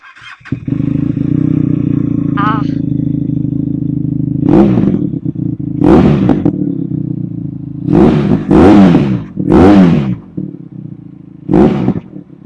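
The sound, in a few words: Benelli TRK 502 motorcycle exhaust revving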